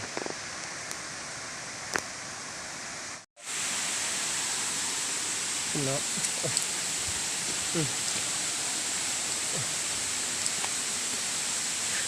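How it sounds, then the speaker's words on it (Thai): A small waterfall at a national park in Satun, Thailand, pours in a steady broadband rush, loud and constant, briefly cut near the start, with faint bird calls and a quiet word spoken over it. "อนนี้ก็อยู่หน้าน้ำตกนะครับน้ำตกเล็ก ๆ นะครับ"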